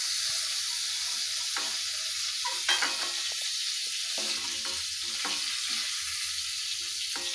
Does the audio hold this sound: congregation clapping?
no